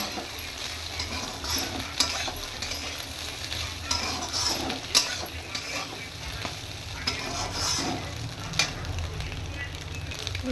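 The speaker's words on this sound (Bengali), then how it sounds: "ভালো করে একটু 2 মিনিট নেড়ে চেড়ে ব্যাস হয়ে যাবে আমার ডিম ভুজিয়া রেডি।" Egg bhujia with potato frying in a pan on a gas stove, stirred steadily: continuous sizzle with scraping spoon strokes and occasional sharp clinks, moderately close, no talking.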